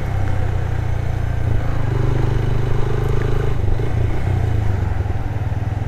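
A new motorcycle's engine, just started, runs at a steady, loud idle throughout, with a low rumbling throb and faint mechanical clatter.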